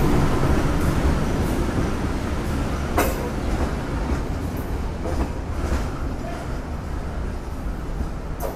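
The Sri Tanjung passenger train rumbles past in Indonesia with steady, broad mechanical noise and occasional metallic clanks, loud and continuous throughout.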